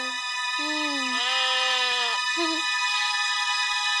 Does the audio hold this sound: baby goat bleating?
yes